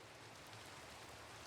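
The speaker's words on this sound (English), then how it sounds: "We're back in the pouring rain" Steady pouring rain in the Minecraft video game, a soft, even hiss of drops that stays constant throughout with no voices.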